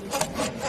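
A Makita saw cuts through wood in a short, steady burst of rasping strokes, close and fairly loud with a slight surge in the middle, and no voices present.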